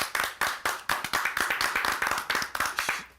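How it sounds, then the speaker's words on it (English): A studio audience on a talk show claps in crisp, steady rhythm, with sharp individual hand claps repeating at a brisk even pace and no talking. "Guys, can we just give a clap,"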